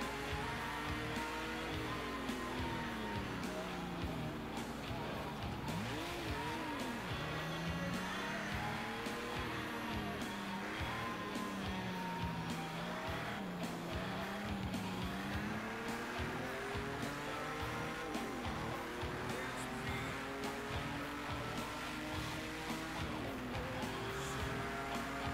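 A race car engine drones continuously in Project CARS 2, its pitch rising and falling with gear changes and cornering, with faint tire noise underneath and no talking.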